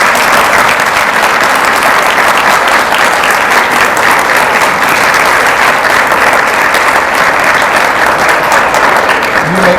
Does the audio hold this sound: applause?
yes